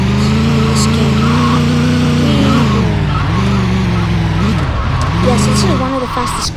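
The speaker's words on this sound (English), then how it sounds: "There's this cool taxi. It's kind of like a taxi race car." A taxi-style race car in a Roblox driving video game hums with a loud synthetic engine tone that rises and falls as it shifts and drifts, under continuous talking.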